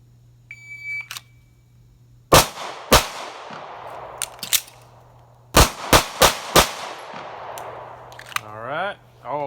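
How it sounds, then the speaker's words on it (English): Sig Sauer P365XL pistol fired at a range drill: two sharp, loud shots, a pause for a reload, then four rapid shots in a quick string, with faint beeps before and a brief voice at the end. "2 shots from concealment on the 3x5 index card size up top, slide lock reload, and then go for 4 shots in the circle in the body"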